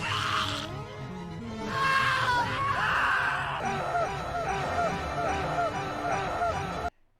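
A scream sound effect in a video game, loud and drawn-out with rising and wavering cries layered over game music, lasting several seconds before cutting off abruptly.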